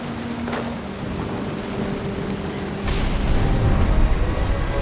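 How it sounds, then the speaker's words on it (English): A stormy scene from the video game What Remains of Edith Finch: steady heavy rain hisses throughout while a deep rumble of thunder swells near the end, loud and close, with no talking. "The thunder sounded much too close and full of angry power"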